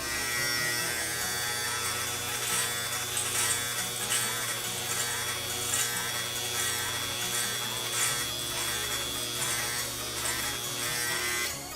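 Electric hair clippers buzz steadily and up close as they cut hair, a continuous motor drone with slight rhythmic swells as the blade moves through the hair, with no talking.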